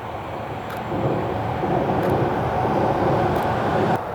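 A train passing by steadily, a broad rumbling roar that swells slightly and holds at moderate distance, with faint clicks over it.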